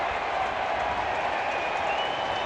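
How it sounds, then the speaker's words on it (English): Baseball stadium crowd cheering a home run, a dense, steady roar of applause and voices held throughout at moderate loudness. "Crowd is cheering."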